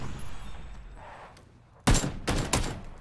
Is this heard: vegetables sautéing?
no